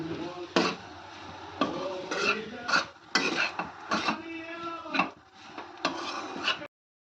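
A utensil stirs and scrapes through garlic fried rice ingredients with chicken masala and chilli powder in a pan, in a dozen or so uneven strokes over a faint sizzle.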